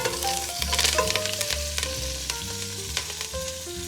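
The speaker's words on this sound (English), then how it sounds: "then chuck in your curry leaves, fry that up for a further 30 seconds" Curry leaves frying with onion, chili, garlic and ginger for a vegan keema biryani, a loud, dense sizzle and crackle throughout, close up, with utensils scraping and clinking rhythmically against the pan.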